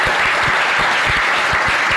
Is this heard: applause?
yes